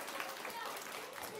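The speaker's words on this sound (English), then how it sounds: "My friends, give yourselves a round of applause." Brief burst of audience applause at a live children's reading show, steady clapping that blends with crowd noise for just over a second.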